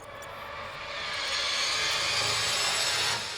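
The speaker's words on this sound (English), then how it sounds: "I'm just gonna use the bandsaw here to cut these real quickly, just to remove most of the material." Bandsaw cutting wood pieces off a feather jig, a steady loud rasping whine that swells as the blade bites and holds through the cut, no talking.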